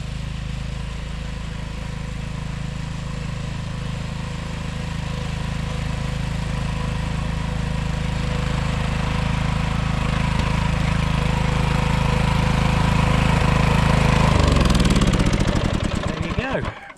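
A Mountfield tractor mower engine runs steadily and loud throughout, a constant mid-pitched drone that builds slightly before cutting out near the end.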